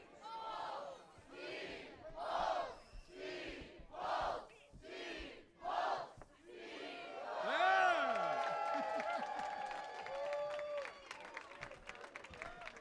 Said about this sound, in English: On my command, say, Steve!